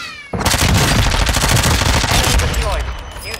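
Gunfire in Warzone 2: a sudden rapid burst of automatic shots starts after a brief quiet moment and continues loud and dense, with the rattle only thinning near the end.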